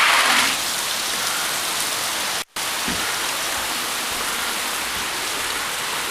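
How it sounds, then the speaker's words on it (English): Steady, loud rain hissing continuously on surfaces, broken by a brief dropout near the middle before the downpour resumes unchanged. "Oh look, it's raining again."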